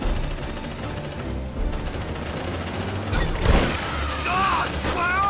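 Sci-fi squad gunfire from the video game Aliens: Dark Descent: rapid bursts and a heavier blast near the middle, with combat effects and marines' voices shouting over the fighting.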